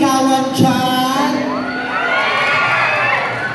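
An audience at a small-town pageant in Linao, Ormoc, shouts and cheers in a loud sustained swell of voices, with some high children's shouts and whoops.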